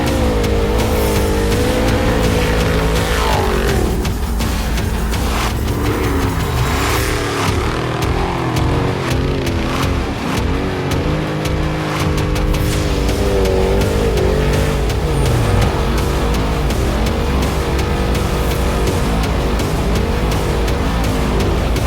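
An off-road race truck competing in the San Felipe 250 in Baja roars loudly throughout, its engine revving and shifting as it drives hard along a course lined with spectators.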